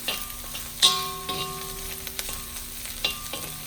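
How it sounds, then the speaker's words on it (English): Onions sautéing in a hot pan for fried rice with Vietnamese pork sausage and Chinese sausage, a steady low sizzle broken by a few sharp utensil clinks and scrapes, close and fairly quiet. "I'm just going to kind of saute this until it gets a little bit fragrant"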